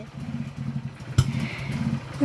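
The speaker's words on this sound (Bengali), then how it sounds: "বাইক স্টার্ট দিচ্ছে" A motorcycle being started: a low, steady engine rumble with a sharp clunk partway through, heard at moderate distance.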